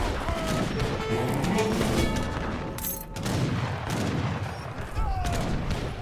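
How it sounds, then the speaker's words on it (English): Mortars in a strategy game pound away at fort walls in a battle heavy with gunfire, with booming impacts and crackling volleys that overlap continuously throughout. "he has 2 mortars there. So basically he's trying to clear up the walls slowly."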